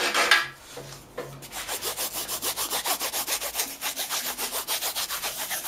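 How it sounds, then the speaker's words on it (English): A finer file rasps across a foam rubber-band model plane in steady rhythmic back-and-forth strokes, close and fairly loud, after a brief pause at the start. "With a finer file"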